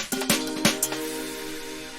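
A sound fades in bathed in heavy DR1 reverb with a high-pass filter set pre-insert on an SSL mixer, a few bright hits ringing out into a long, thin, washy tail with no talking.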